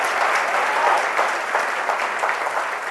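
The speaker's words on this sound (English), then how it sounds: "Round of applause, please." An audience at a talk gives a dense, steady round of applause that fills the room, clapping continuously at an even level throughout.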